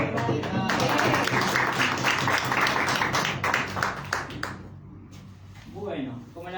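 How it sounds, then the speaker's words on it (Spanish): Applause from participants at a union training meeting, a dense clapping burst lasting about four seconds that fades out, followed by a voice speaking. "pero ahí un aplauso."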